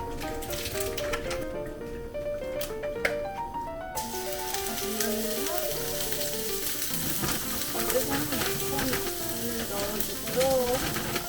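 Minced garlic sizzles in a hot pan for pasta, a steady close frying hiss that runs the whole time while music plays along underneath.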